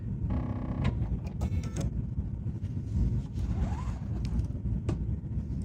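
A Bernina 990 sewing machine stitches a quilting pattern, giving a steady, close mechanical whir that runs without a break, with a few faint clicks on top.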